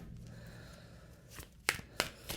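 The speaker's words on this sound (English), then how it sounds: "Let's get some more cards on this." Tarot cards are shuffled close by in a quiet room, a soft riffle at first, then a few sharp snapping flicks near the end.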